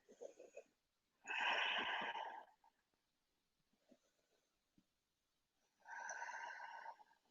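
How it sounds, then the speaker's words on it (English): Slow, deliberate breaths during a morning yoga flow, soft and close: a short exhale, then two longer, airy breaths several seconds apart with near silence between them. "taking a couple more breaths here"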